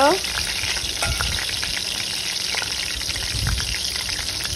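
Oil and spices sizzle and crackle steadily in a wok (kadhai), with occasional scraping stirs and spattering pops, close and continuous.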